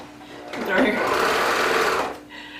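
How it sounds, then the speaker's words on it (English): A serger overlocking the shoulder seams of a garment, a single burst of rapid whirring stitching lasting under two seconds, close and fairly loud over a faint background hum. "you're just going to serge away on your shoulder seams"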